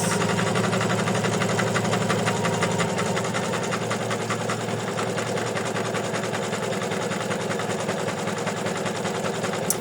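An embroidery machine sews satin stitches for a stem and leaf, a loud, continuous rapid mechanical needle chatter with a fast steady rhythm and motor hum, close by and uninterrupted.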